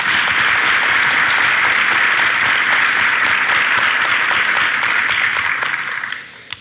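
A studio audience at a Turkish relationship-quiz show in Ataşehir applauds, loud and continuous dense clapping that holds steady, then fades out near the end.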